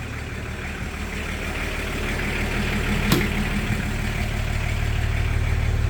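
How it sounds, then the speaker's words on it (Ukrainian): A VW LT-40 van's diesel engine idles steadily with a low, continuous rumble, one small click partway through, and no voices. "Заведений двигун."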